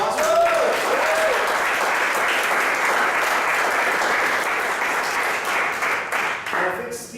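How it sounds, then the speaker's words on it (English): Audience at a comedy show applauding comedian Matthew Plummer: dense, steady clapping from a full room with a few whoops and cheers early on, loud and sustained, thinning slightly toward the end. "give Matthew Plummer a round of applause"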